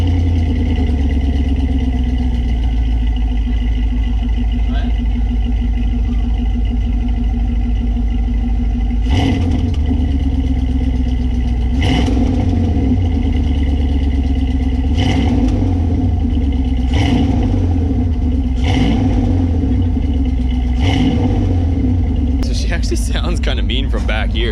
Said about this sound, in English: Motor sounds okay, but just the exhaust tick is definitely killing the whole vibe here.